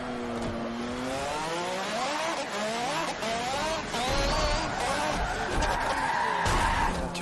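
A race car in Forza Motorsport 7, driven with no assists, skids with long tire squeals and its engine wails and revs, loud and continuous.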